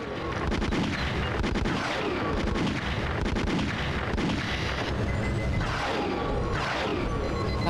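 Rapid, continuous gunfire and heavy blasts rain down on the player in the RoboCop (2003) video game, a dense, loud barrage with repeated booming impacts throughout and no talking.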